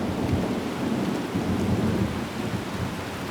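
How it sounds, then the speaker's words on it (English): Intense Amazon rainstorm with thunder: a dense, steady roar of heavy rain with a low rumbling undertone throughout, loud and unbroken with no voices. "The team cannot return under the intense rainstorm"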